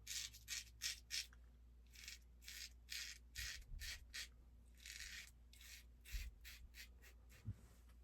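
A Leaf Shave single edge razor with a Leaf blade scrapes through sideburn stubble in short, close, quiet strokes, a crisp rasping rhythm of repeated passes with brief pauses and faint low thumps.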